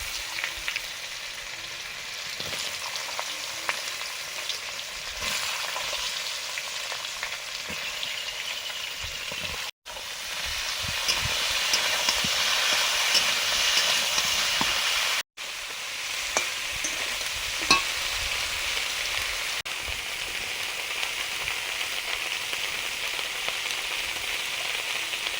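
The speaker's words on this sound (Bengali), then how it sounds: "শুকনো লঙ্কা, 5 ফোড়ন, আলু বেগুন দিয়ে দিচ্ছি।" Dried chilli, five-spice seeds, potato and eggplant frying in hot oil in a pan for a fish curry, a steady close crackling sizzle running throughout with occasional stirring scrapes and two brief cuts.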